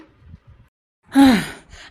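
A single heavy, breathy exhale or gasp of someone out of breath, loud and close after a quiet stretch with faint low murmurs.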